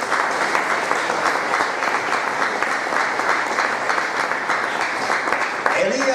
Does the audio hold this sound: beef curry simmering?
no